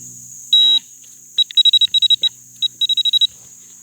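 A metal detector powers up with one longer high electronic tone, then runs of short, rapid beeps in quick bursts, sharp and close, with no talking.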